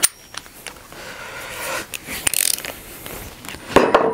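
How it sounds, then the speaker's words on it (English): Ratcheting clicks from a torque wrench tightening fasteners during a blade installation, a few quick bursts of close mechanical clicking with a louder rattle near the end. "torque wrench."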